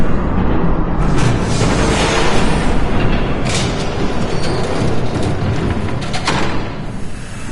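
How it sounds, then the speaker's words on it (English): A train approaches in a Batman game, a loud continuous rumble with heavy low booms and metallic rattling building up, no talk. "There's a train coming."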